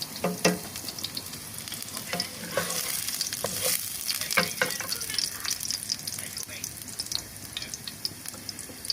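Garlic sautéing in a hot pan as the first step of cooking beef liver, a steady close sizzle with scattered crackles and stirring scrapes throughout.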